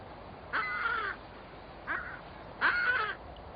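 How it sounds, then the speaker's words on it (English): Skuas calling in Antarctica: three harsh, nasal squawks spaced about a second apart, the last the loudest, rising over quiet ambient background with no voices. "Like pirates, skuas gather."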